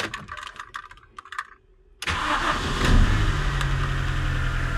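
A car engine cranks and catches after an ignition coil replacement, a few faint clicks and rattles followed by a sudden loud start that settles into a steady close idle with a slight rev.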